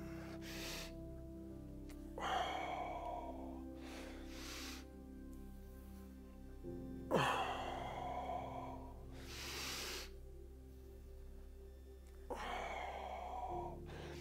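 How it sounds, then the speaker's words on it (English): Slow, deep breaths during a thread-the-needle quad stretch, soft airy inhales and exhales repeating every few seconds over a low steady background hum, close and quiet. "Inhale down here, exhale up to the ceiling."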